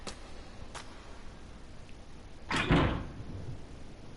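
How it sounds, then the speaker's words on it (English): In the Death Mark horror game, a dull thump hits a door, with a couple of faint knocks earlier and a muffled rumbling slam near the end over quiet ambience, no voices. "I hear a noise like something slamming against the door."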